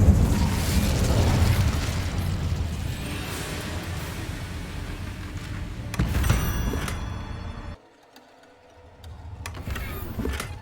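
An Incendio fire spell being cast in the Hogwarts Legacy video game: a loud whooshing roar with booming bursts that sustains for several seconds, then a sharp crackling flare after a brief drop.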